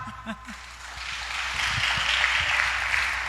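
Church congregation breaks into clapping during a sermon, a swelling wash of many hands that builds after a brief voice at the start and holds steady, fairly loud, to the end.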